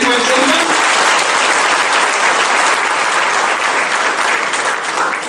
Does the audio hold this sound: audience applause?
yes